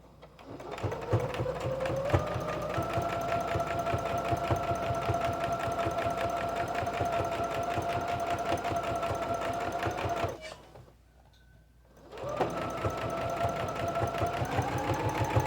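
A sewing machine stitching an apron with stitch length set to 2.5, in a steady rapid rhythm, pausing briefly near the end before the mechanical whirr resumes, close and fairly loud.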